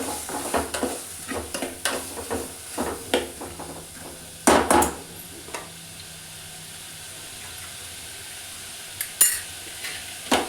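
Radish greens palya stir-fried with garlic in a pan, heard as scattered scraping and clinking stirs over a low steady sizzle, with a couple of louder knocks against the pan.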